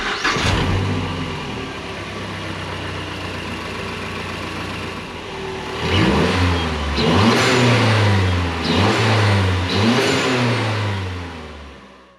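A 2012 Mazdaspeed 3 with a COBB intake and turbo inlet idles loudly and steadily up close, then its engine is revved repeatedly in several rising and falling bursts before it quiets at the end.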